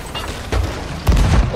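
Two heavy booming cannon shots from a pirate ship in a video game, the first near the half-second mark and a louder one about a second in, each with a low rumbling tail over ambient game noise.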